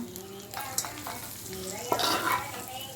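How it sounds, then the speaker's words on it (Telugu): Soft, wet stirring and mixing sounds repeat close by over a faint sizzle, with scraping strokes of a utensil as a hot tempering is mixed into hot rice for tamarind rice. "వేడివేడి అన్నంలో కలుపుకుంటున్నాం"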